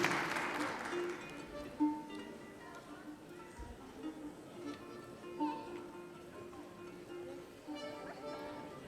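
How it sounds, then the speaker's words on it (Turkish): Applause rises from the audience at a Caucasian association cultural night concert in Kayseri, a brief, fairly faint burst of clapping at the start that fades under sustained music and some talk. "Alkış sesi çok iyi geliyor"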